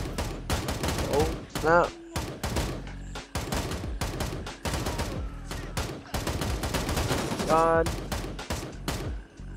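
Rapid bursts of automatic gunfire ring out in the shooter game Gray Zone Warfare, with sharp, loud, close shots in quick sequences separated by short pauses. A player talks briefly over the shooting.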